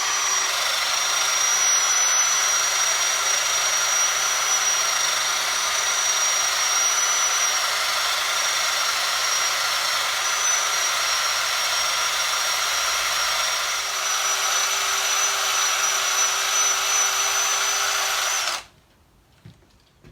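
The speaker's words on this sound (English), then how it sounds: "Put some polishing gear on, a bit of the blue again." Polishing mop spinning against a Honda CB engine casing with blue polishing compound, a steady loud motor whine with a high tonal ring held for about eighteen seconds, then cutting off abruptly to near silence.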